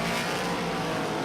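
Big block modified race cars roaring off a dirt-track corner at Volusia, a dense, loud blast of open engines at full throttle, close and continuous.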